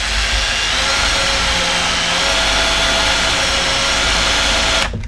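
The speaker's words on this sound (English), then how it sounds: "whenever you're drilling gel coat, you really want to start in reverse so that it doesn't chip out the top of it" A power drill runs steadily in reverse, boring into boat gel coat during an Ultrex trolling motor mount install; the loud, continuous whirring motor holds for about five seconds, then cuts off abruptly.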